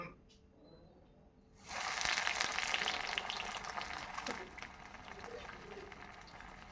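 Chira (flattened rice) cutlets fry in hot oil over a medium gas flame, a loud broadband sizzle that bursts in abruptly after a quiet start and then settles into a steady crackle.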